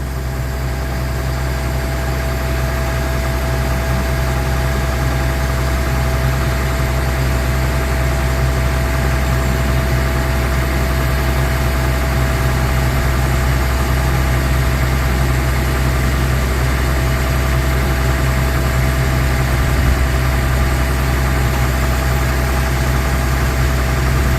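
A tractor engine idles steadily while it powers a hydraulic lever during grain bin work on concrete pads, a constant low rumble with a throbbing vibration that holds unchanged from start to finish, with no talk over it.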